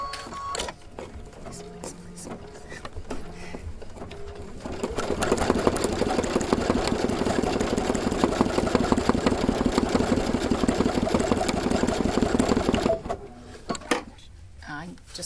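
A combined sewing and embroidery machine, working on the base of a rope bowl, stitches with a steady, rapid mechanical whir for several seconds, starting after a few quiet handling sounds and stopping abruptly, with someone speaking before it.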